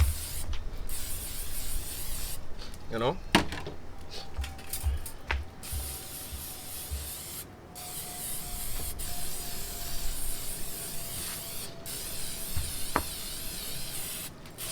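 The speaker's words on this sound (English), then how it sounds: "I'm going to just use some spray. And spray it so as to not let it stick." Cooking oil spray hisses steadily from an aerosol can onto a grill basket for Jamaican jerk fish, a long continuous spray with brief breaks, close and loud. A voice speaks a couple of words briefly.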